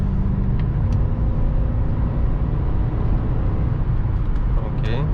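A BMW X5 E53 4.4i V8, remapped, cruises fast on the autobahn, a deep steady engine drone blended with road and wind roar from inside the cabin.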